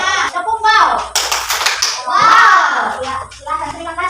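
Schoolchildren in a classroom perform a clapping chant together, a burst of sharp rhythmic hand claps mixed with their chanting voices in the middle, with a teacher's voice and children's talk before and after.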